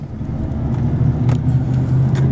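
A pickup truck engine pulls hard from the cabin, a low steady drone rising under road rumble, with a few faint rattles from inside the cab.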